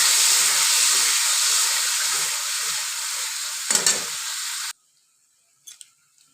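Spices for a cauliflower and potato curry fry and get stirred in a hot pan, a loud steady sizzle with a brief scraping stir near the end before the sizzling cuts off, followed by a couple of faint clinks.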